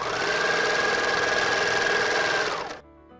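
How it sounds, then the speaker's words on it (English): A serger sewing machine stitches a pajama pants seam with a fast, steady mechanical whir at close range, then winds down and stops near the end. "Then I start serging, then I readjust, gently pulling my serger tail."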